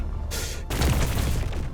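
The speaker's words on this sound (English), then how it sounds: "you can see everything erupt into explosions" Explosions in the video game Space Engineers 2 as ship blocks are blown apart: a loud, rumbling boom that erupts suddenly and keeps roaring with crackling debris, preceded by a short burst of noise.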